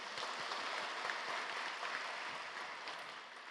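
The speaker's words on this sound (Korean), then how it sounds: "오늘 은혜의 말씀을 전해주신 윤호용 선교사님께 감사의 박수를 드리겠습니다." A church congregation at an early-morning service applauds in thanks for a visiting missionary, a steady, soft wash of many hands clapping heard from a distance with no voices over it.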